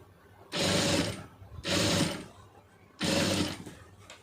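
Sewing machine stitches a quarter-inch seam on a blouse, running in three bursts of rapid whirring and clattering, each lasting about a second, separated by short pauses. Close and fairly loud, with no talk.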